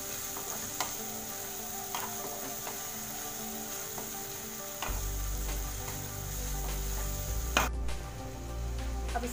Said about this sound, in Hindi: प्याज को भी थोड़ा सा पका लेंगे।